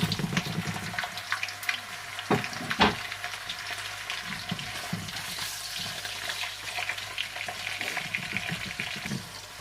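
Pork and garlic fry in a pan with a dense, steady sizzle that keeps going throughout, broken by occasional stirring scrapes and clatter, and no talking over it.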